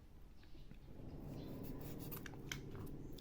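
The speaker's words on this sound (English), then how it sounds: "So to shape it, all I did was cut a chamfer" A blade cuts a chamfer into a small 1/35 scale diorama sandbag piece, giving faint close scraping and rubbing strokes with a few soft clicks, no talking.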